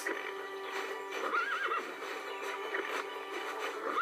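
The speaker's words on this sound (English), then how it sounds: "that's a horse" A horse in a zoo video game whinnies once with a rising and falling neigh, set over steady clip-clopping hooves and a soft ambient background.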